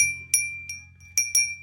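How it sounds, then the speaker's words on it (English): A small bell, kept as a family keepsake with Christmas decorations, rung in four or five light strikes, each leaving a bright, sustained ring that fades between hits, close and alone. "Then I have this bell"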